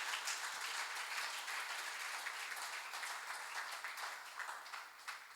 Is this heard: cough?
no